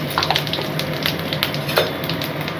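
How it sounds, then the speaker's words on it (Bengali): Panch phoron spices, a bay leaf and two dried chillies crackle in hot oil, with busy close sizzling and scattered sharp pops throughout. "পাঁচফোড়ন দিয়ে দিচ্ছি, একটা তেজপাতা, দুটো শুকনো লঙ্কা দিয়ে দিচ্ছি।"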